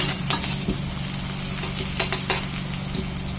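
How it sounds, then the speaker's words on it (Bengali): Onion and dried red chilies frying in hot oil in a wok, a steady dense sizzle with occasional clicks of a stirring spoon against the metal, close and continuous, with no talking. "আমি এখানে শুকনো লঙ্কা দিয়েছি, পেঁয়াজ দেবো।"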